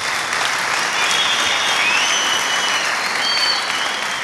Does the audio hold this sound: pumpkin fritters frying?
no